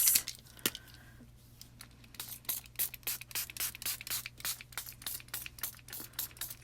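Spray bottle misting onto a Gelli plate, a rapid series of about twenty short, sharp hissing bursts in a quick, fairly even rhythm, close and moderately loud, with no talking.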